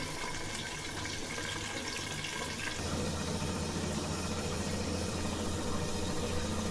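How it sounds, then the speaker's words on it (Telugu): Water poured onto a cooking plate while making coconut rice, a steady close splashing and trickling that thickens partway through and keeps running evenly, with no talk over it. "ఈ ప్లేట్లో కొద్దిగా నీళ్ళు వేస్తానండి"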